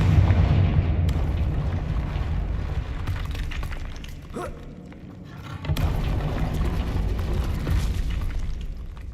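In Hogwarts Legacy, the Confringo fire spell goes off as a booming blast that rolls out over steady game background, followed by a second heavy burst a moment later.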